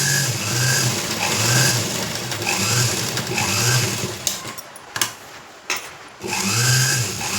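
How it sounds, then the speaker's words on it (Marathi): A sewing machine stitches lace onto a blouse neckline, a loud, close, rhythmic mechanical whir in repeated runs, with a few sharp clicks and a short lull before stitching resumes. "हे बघा त्या पद्धतीने अशी शिलाई मारून घ्यायची लेसला परत"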